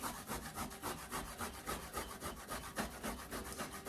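Unpeeled raw ginger rubbed against a grater in quick, even rasping strokes, a rhythmic scraping repeated several times a second, close and quiet, with no talking.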